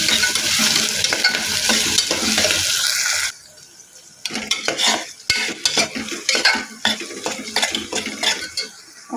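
Onion and green chili pieces drop into hot oil for chicken pulusu, setting off a loud, hissing sizzle that cuts off after about three seconds. Close spoon scrapes and clatters against the pan follow while the frying continues more quietly.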